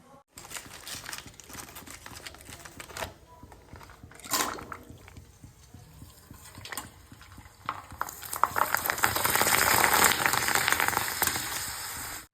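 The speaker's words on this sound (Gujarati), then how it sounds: "ભૂંગળા તળાઈને રેડી થઈ ગયા છે" Bhungla snack frying in hot oil, a continuous sizzle with stirring and scraping against the pan, growing louder and more intense toward the end, with no talking.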